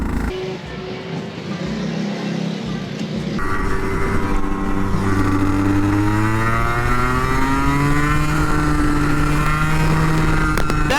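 A fast go kart engine runs at under half throttle, a close buzzing drone that climbs steadily in pitch as the kart accelerates, with a steady engine note throughout.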